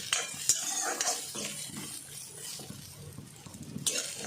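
Garlic and chili powder frying in a pan for sambar, a gentle sizzle broken by repeated scraping stirs and metallic taps of a spoon against the pot, close by and without speech.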